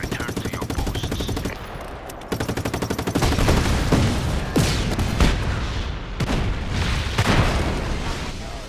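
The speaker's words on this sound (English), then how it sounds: "That's an explosion." Explosions and bursts of gunfire from The Division video game, loud and dense, with rapid machine-gun rattles, several heavy booms, and sharp shots layered over one another throughout.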